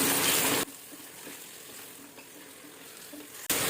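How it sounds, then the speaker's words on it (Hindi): Mutton stirred into lightly fried onions in a pot for memni yakhni pulao, a steady loud sizzle with scraping stirs, close, dropping to a softer bubbling fry in the middle before the loud sizzle returns. "अब इसमें ऐड करेंगे गोश्त। अब अच्छी तरह से मिक्स करेंगे।"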